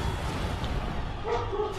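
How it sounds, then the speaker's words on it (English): A dog barks somewhere in the background of a house while game audio plays through headphones, giving a muffled, continuous mix of yips and bow-wow barks over steady sound. "I'm pretty sure my dog's barking."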